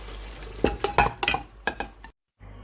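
Cooked mutton is tipped from a pressure cooker into a karahi pan, giving a handful of wet clunks and metallic scrapes with a light sizzle, close and moderately loud, then a brief silence.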